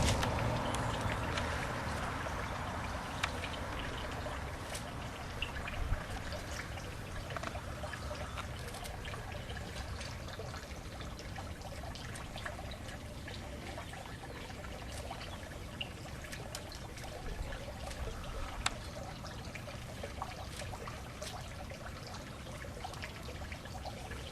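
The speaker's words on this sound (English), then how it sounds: "I'm going to just run them through some water, wash them up, make sure there's no bugs on them." Mint leaves are rinsed under a steady stream of running tap water, a continuous even splashing and trickling that stays level for the whole stretch, with no talking.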